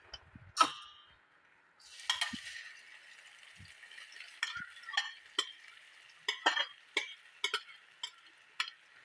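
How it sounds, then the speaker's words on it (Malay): Prepared ingredients are sautéed in a pan for fried eggplant with onions, giving a soft continuous sizzle broken by irregular sharp clinks and scrapes of a utensil against the pan. "kita tumis bahan-bahan yang kita dah sediakan tadi"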